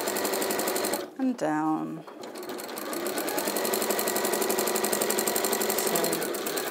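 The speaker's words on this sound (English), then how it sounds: "I thought I may as well just sew a very narrow seam allowance to start with" A sewing machine stitches a very narrow seam allowance around a curve, a fast, even rapid-fire clatter that stops briefly while someone speaks, then resumes steadily and close.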